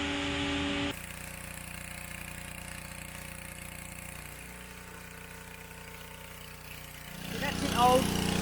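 A boat travel lift's engine runs at a steady idle, a low continuous rumble that swells louder near the end, heard after a brief burst of other sound at the start.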